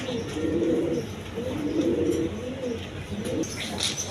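A red Gorra pigeon coos in repeated low, rolling phrases, moderately close, with faint background noise and no clear talk over it.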